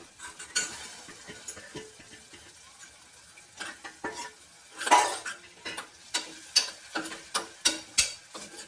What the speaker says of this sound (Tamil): கட்டி இல்லாமல் கை விடாமல் நல்லா கிளறணும்